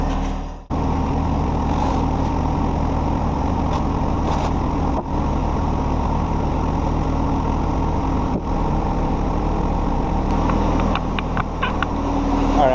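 A John Deere 1025r compact tractor engine idles while warming up, a steady low rumble that runs loud and unbroken throughout with a few faint clicks and knocks on top.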